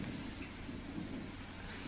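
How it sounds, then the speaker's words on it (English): A low, continuous rumble like thunder from a fist thumping, steady and faint throughout with no distinct breaks. "if you hear a thunder sound in the background, it's not a storm."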